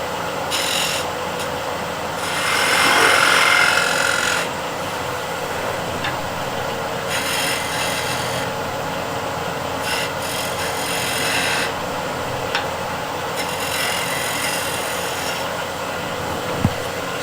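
A negative rake scraper cuts a bead and grooves into spinning wood on a lathe, giving a steady close rasping scrape that swells louder for a moment, with a few sharp ticks near the end.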